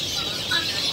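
Domestic chicken clucking faintly in a steady, continuous outdoor background, a soft layered murmur of hen sounds with a brief louder call near the middle and no talk.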